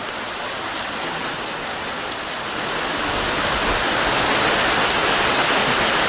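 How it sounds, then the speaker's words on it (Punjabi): Heavy rain pours down steadily, a dense, loud hiss that swells slightly as it goes on, with no voices. "ਇੱਥੇ ਮੀਂਹ ਦਾ ਨਜ਼ਾਰਾ ਮੀਂਹ ਕਾਫੀ ਤੇਜ਼ ਪੈ ਰਿਹਾਗਾ"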